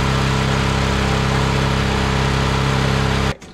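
A well pump motor runs with a loud, steady low electrical hum and strong harmonics, then cuts off abruptly near the end.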